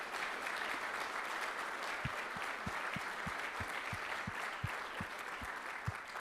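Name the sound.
audience round of applause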